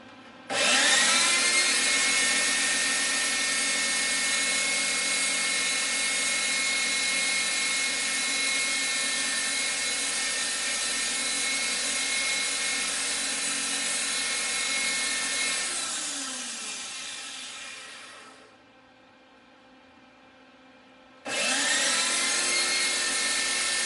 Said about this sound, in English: Put on the exhaust fan.